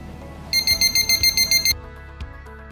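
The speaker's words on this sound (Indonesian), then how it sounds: "Terdapat alarm apabila temperaturnya tinggi dan bunyi yang cukup kencang" A body thermometer's loud high-temperature alarm beeps in a rapid pulsing pattern for about a second, then stops, followed by a few faint clicks.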